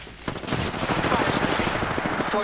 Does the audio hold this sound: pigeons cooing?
no